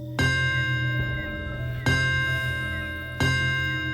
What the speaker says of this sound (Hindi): वो जो घंटी की आवाज थी वो एकदम टेंट के बाहर से आने लगी।